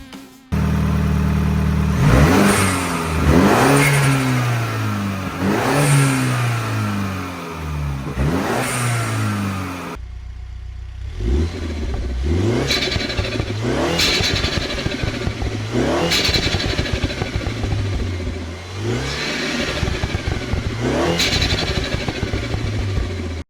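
A car engine fitted with a newly installed cold air intake revs repeatedly, each loud rising rev climbing then falling back in a steady rhythm, close and with no talking.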